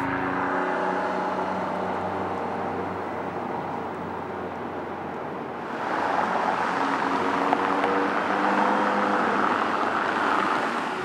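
Small Japanese kei car with a manual gearbox driving along, engine droning steadily inside the cabin, then its pitch and loudness rise partway through as the driver works the gears.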